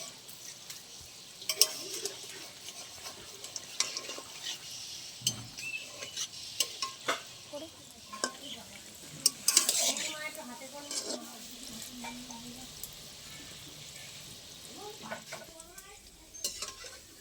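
Palm fruit fritters (taler bora) frying in oil until reddish, a low steady sizzle broken by repeated scrapes and clinks of a spatula against the pan, close and moderately quiet, with occasional voice in the background.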